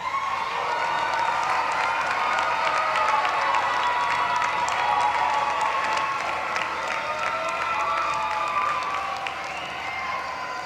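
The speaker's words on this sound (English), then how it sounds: "give them a wave, and a grateful round of applause" A large commencement crowd applauds in a university arena at the 2023 Loyola University Chicago graduation, dense, sustained clapping with scattered cheers filling the hall at steady loudness throughout.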